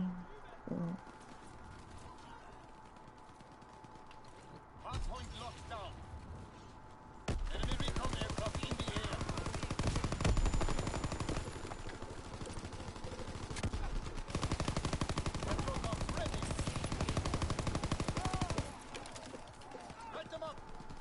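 Heavy gunfire rattles through a WW2 shooter's zombie horde mode, with rapid automatic bursts and dense volleys that swell loud midway and persist near and constant.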